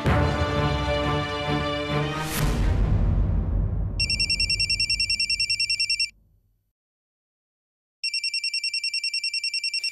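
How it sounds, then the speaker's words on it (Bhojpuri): An electronic telephone ring trills in two bursts separated by a pause of silence, following a loud fading musical sting at the start, in a Bhojpuri TV drama scene. "विष्णु पांडे के फोन टिंटिनावत रहेले हमेशा"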